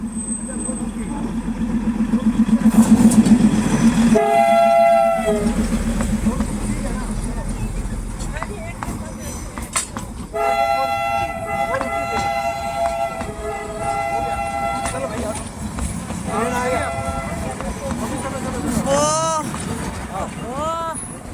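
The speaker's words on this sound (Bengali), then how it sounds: "মোনাস্ট্রির ভেতর থেকে টয় ট্রেনের আওয়াজ শুনেই ছুটতে চলে এসেছি টয় ট্রেন দেখব বলে" A Darjeeling toy train rumbles past with repeated horn toots and clattering wheels, loud and close, while people talk over the noise.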